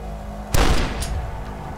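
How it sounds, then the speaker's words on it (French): Gunfire and explosions from the first-person shooter Dusk on Nintendo Switch: a sudden loud burst with a sharp onset that rumbles and decays over about a second, with a second crack following, over a steady low game background. "ça pète dans tous les sens"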